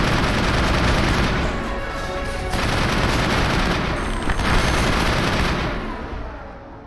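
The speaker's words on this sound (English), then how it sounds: "Oh, I'm shooting at a rock." Sustained rapid gunfire from a weapon in the Mass Effect video game, a loud continuous fusillade of shots running for several seconds with brief dips before trailing off.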